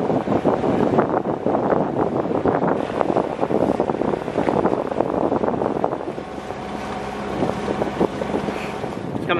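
A sailboat's wake hisses and sizzles along the hull as it moves at speed through a tidal passage in Alaska, a steady rushing wash mixed with wind buffeting, close and continuous.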